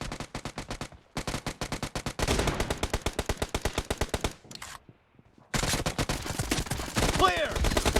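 Rapid automatic fire from a light machine gun in a video game arena, with long sustained bursts close and loud, separated by brief silent gaps.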